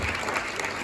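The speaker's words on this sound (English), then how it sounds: "let's give him a round of applause" A community audience breaks into brief, steady applause, a short burst of dense clapping.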